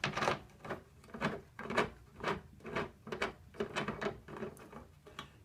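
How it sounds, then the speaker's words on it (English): Bolts being tightened on the end of a rugged doorway curtain rod, a run of repeated ratcheting clicks and creaks in steady bursts, close and moderately loud with no talking. "So I tighten these bolts up"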